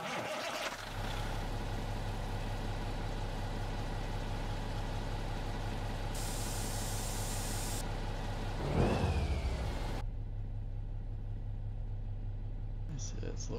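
A Cummins N14 diesel in a White/GMC cabover truck in a truck-driving video game fires up within the first second, then settles into a steady, loud, rumbling idle with a brief louder surge later on.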